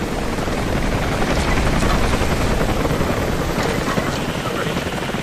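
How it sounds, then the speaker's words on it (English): A helicopter in the video game Rise of the Tomb Raider, a loud steady rotor roar that fills the whole stretch with dense noise and game sound effects mixed in, with a voice talking in the background. "So is this where we're going to shoot the helicopter?"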